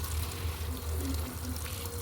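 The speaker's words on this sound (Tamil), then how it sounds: "ஐயா நான் தண்ணி பொறுமையாக தான் திறந்து விட்டுருக்கேன்" Steady water running from a tap, opened gently, while watering plants, a continuous low rushing flow with no voices, close and fairly loud throughout.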